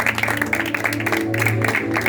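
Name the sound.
congregation applauding in church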